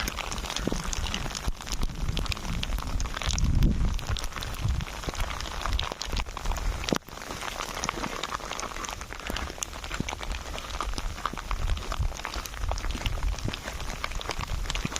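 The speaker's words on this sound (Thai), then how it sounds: "ที่เห็นสีขาวๆนี่ก็คือพายุลูกเห็บนะครับ ตอนนี้กำลังตกหนักเลย" Dense, steady patter of hailstones striking surfaces all around in a heavy hailstorm on Mount Fuji, a continuous rattle with occasional louder knocks and rustling nearby.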